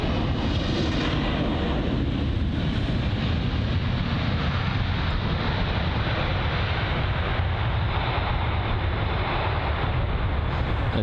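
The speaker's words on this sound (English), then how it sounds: "So new Lufthansa A320-200 finally moving once again" A Lufthansa Airbus A320-200 moving at London Heathrow gives a steady, loud broadband jet engine roar that holds constant throughout, with a wind-like rush and no voices.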